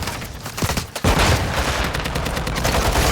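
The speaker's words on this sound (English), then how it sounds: "You are taking effective fire." Gunfire in the video game Call of Duty Modern Warfare 2, with sharp shots and then dense, sustained automatic fire, loud and close, and no voices.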